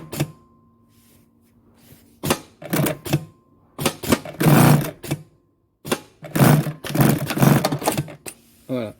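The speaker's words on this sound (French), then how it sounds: "On a juste appuyé sur la pédale et relancer la couture à chaque fois qu'il lève le pied." Triple-feed sewing machine with automatic thread cutter stitching fabric, running in several rapid bursts of mechanical chatter separated by pauses as the pedal is pressed and released.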